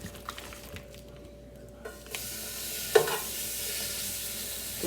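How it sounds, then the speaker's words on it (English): Bacon sizzles and spits in a pan while being cooked at home for creamy bacon chicken, a steady quiet fry with a few stirring scrapes and clinks, no talk. "I'm gonna put the bacon in the pan now"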